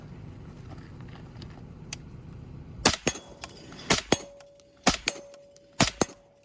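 An unsuppressed SCAR 17 rifle fires several sharp, loud shots outdoors in an irregular sequence of single cracks with ringing tails, after a quieter lead-in.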